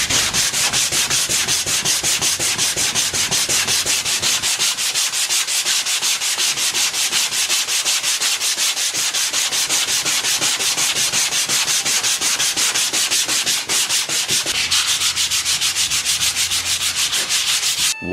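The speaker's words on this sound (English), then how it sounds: "so I'm gonna keep sanding this" Continuous rhythmic scraping of sandpaper rubbed back and forth by hand across body filler on a car body panel, close and steady for the whole stretch, no voices.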